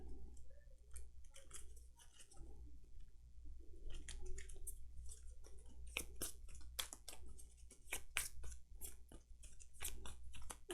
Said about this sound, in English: So the rest of this stuff gets shuffled in.